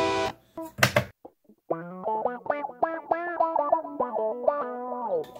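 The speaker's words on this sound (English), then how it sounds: "I guess it's using the pitch modulation on here and some extra distortion" A heavily processed electric guitar plays a wobbling, pitch-bending phrase through gritty distortion from a DigiTech RP80 effects pedal's pitch modulation, preceded by a couple of short loud bursts.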